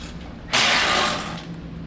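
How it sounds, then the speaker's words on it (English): Ratchet with a 13mm socket loosening skid plate bolts under a 2017 Jeep Cherokee, a short burst of rapid close clicking after a quiet start, then fading. "I'm going to be using a 13mm socket to lower down my skid plate"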